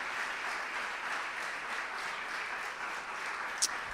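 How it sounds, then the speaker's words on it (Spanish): Congregation applauding during a Spanish-language church service, a steady wash of clapping heard from a distance, fairly faint and even throughout, with one brief sharper sound near the end. "Dame un fuerte aplauso a Él en esta noche."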